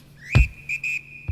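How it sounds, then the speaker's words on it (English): A few sharp, high whistle tones, one long sustained note and shorter bursts, punctuated by thumping beats, fairly loud and close. "You gotta have the whistles."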